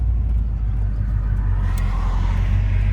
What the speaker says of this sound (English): the car runs and drives phenomenally